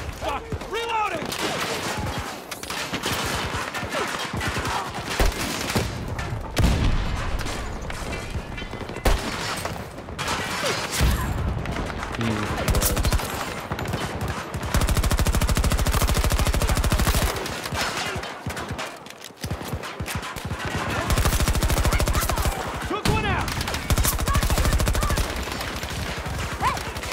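Sustained loud bursts of AK rifle gunfire, near and continuous with rapid shots layered over one another, broken briefly by a shouted voice during a reload.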